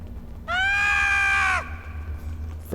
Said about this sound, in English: Ferengi scream.